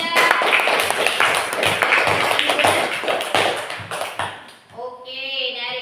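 A classroom group applauds a student presentation with dense, bright clapping that starts at once and keeps a steady level for about four seconds. It then thins out and gives way to a voice speaking.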